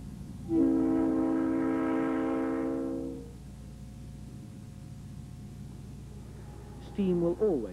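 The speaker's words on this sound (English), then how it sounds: "These views show Dalian-bound trains out of Anshan." A diesel train horn near Anshan, China, sounds one long steady blast for about three seconds over a low rumble of rail traffic, and a shorter, higher two-tone horn call follows near the end.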